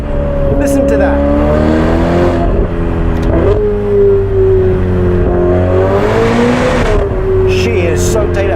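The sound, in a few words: Novitec Ferrari F8 Spider exhaust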